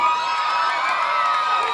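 Students at a school event in Memphis cheering for Secretary of Education Arne Duncan, a loud, sustained crowd roar with shouts blending together.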